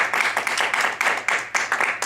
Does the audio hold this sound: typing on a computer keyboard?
no